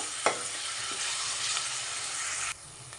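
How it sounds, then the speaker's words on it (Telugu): Green chillies fry in a pan over a medium flame, giving a steady close sizzle and hiss with a brief stir clatter near the start, then the sizzle drops away sharply near the end. "పచ్చిమిర్చి యాడ్ చేసి ఒక 1 మినిట్ వరకు ఫ్రై చేసుకోవాలి మీడియం ఫ్లేమ్ మీద."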